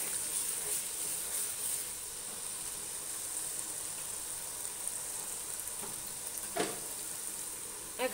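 Four kilograms of meat fry in well-cooked spiced oil in a large pot, giving a steady close hiss and sizzle with a few brief stirring clatters and pops near the end, without talk.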